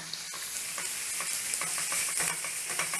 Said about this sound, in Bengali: এখন দিলাম আদা আর রসুন বাটা।